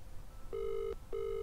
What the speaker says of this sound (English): My sunglasses are ringing.